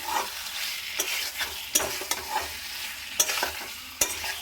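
Potatoes and green chillies frying in a pan are stirred with a spatula, sharp scraping clicks punctuating a steady close sizzle at irregular intervals, with no voices.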